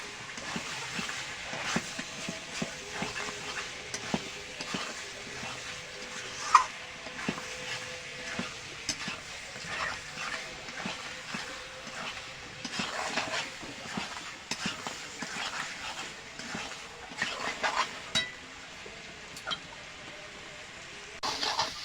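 Mutton frying in a pan for kosha is stirred continuously, producing a low sizzle with repeated scraping and knocks of the spoon against the pan at an irregular rhythm, with no talking.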